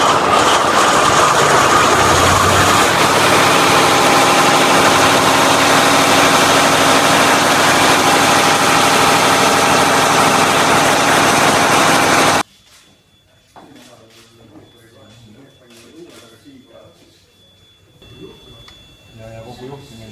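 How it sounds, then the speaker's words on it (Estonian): A ferry's ship engine running loud and steady with a dense mechanical roar, then cutting away to a much quieter scene with voices and faint tonal hum. "nüüd ma vajutan start nuppu, sest nüüd mootor käivitub laeval"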